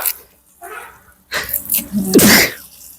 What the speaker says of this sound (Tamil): என்ன எப்படி வருது தும்மல்?